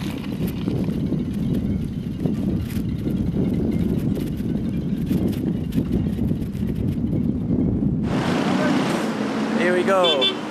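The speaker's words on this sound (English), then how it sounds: "Every single day the wind is against me" Strong headwind roars and buffets the microphone continuously while cycling on a desert road in Iran, a dense low rumble that eases briefly near the end.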